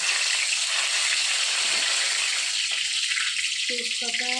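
Bay leaves sizzle in hot oil at the start of a meat curry, a continuous close hiss with a few brief clinks and a short voice near the end.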